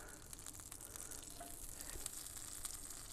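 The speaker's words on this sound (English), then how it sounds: "we're gonna go ahead and get our butter in there. Let that get good and melted" Butter melting in a hot cast iron skillet before a ribeye goes in, giving a quiet, steady crackling sizzle with small spattering pops throughout.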